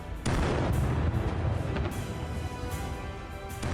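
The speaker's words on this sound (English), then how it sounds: "a Ukrainian soldier fires a javelin missile" A Javelin missile strike explodes on a Russian APC convoy, a heavy booming blast followed by sustained rumbling and crackling that slowly fades, heard from a distance.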